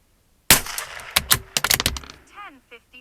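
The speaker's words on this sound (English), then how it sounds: "I'm gonna shoot in between the 2 lower targets on the right." A Tikka T1X rimfire rifle fires RWS Club ammunition, a sharp crack followed by a flurry of quick clicks and metallic clatter, then fainter rattles trailing off.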